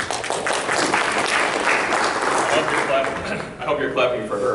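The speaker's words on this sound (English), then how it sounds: "I hope you're clapping for her and not for me." An audience applauds at a morning talk during a regional event, a sustained round of clapping that fades near the end as a voice starts speaking.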